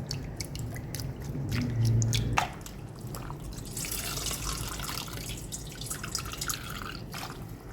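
Water runs from a tap for washing a doormat, with steady trickling and splashing, dripping and a brief louder gush early on, close and continuous with no talking.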